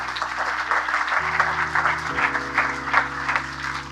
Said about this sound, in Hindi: हर उस व्यक्ति के लिए मैं ताली बजाता हूं जो खुदा को सुनता